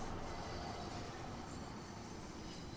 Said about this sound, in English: The back end of the train is still pulling us down.